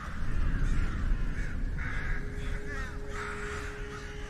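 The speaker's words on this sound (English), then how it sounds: "Then a weird animatronic / CG crow lands on the tree, and then another" Crows caw in a tense outdoor scene from a TV drama, with rough calls repeating across the clip in a steady run over a noisy low background, and no talk.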